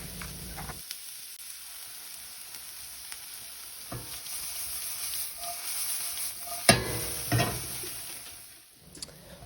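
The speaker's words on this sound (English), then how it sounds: "Dump in those peppers. Let them saute and sweat it out." Peppers sauté in garlic-infused olive oil in a cast iron pan, a steady close sizzle with occasional stirring scrapes and clinks; no one speaks.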